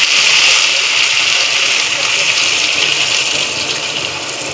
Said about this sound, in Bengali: এবার আমি কিছুটা পরিমাণ জল দিয়ে দেব।